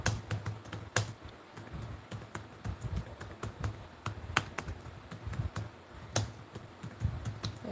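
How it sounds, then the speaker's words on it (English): Typing on a computer keyboard, a fast, irregular stream of close key clicks with a few harder taps standing out, continuous for several seconds. "let me just quickly type this."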